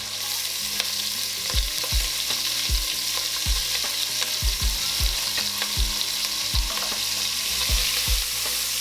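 A whole onion, roughly chopped, sizzling in oil for beef stew, a steady hiss broken by regular clacks and scrapes of a utensil stirring in the pot, with no talking.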